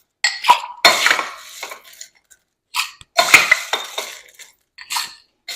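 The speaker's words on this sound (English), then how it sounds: "we are going to fill up your glass with ice" Ice cubes clatter and clink into a glass while a cocktail with juice and club soda is being mixed, coming in several loud, sharp bursts with short pauses between them and no talking.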